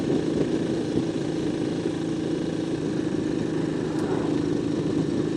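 BSA C15 motorcycle engine pulling steadily up a hill on a country run on the Black Isle, a continuous close, loud single-cylinder drone with wind rush and no pauses.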